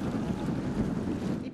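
Strong wind buffets the microphone on crowded raised walkways over flooded streets in Venice during high water, a dense continuous roar with splashing water mixed in, no clear talk.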